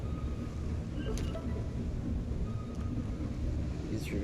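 Thunderstorm in the video game Astroneer, a continuous low rumbling roar like wind and rain with faint swooshing sweeps, steady and moderately loud with no clear speech.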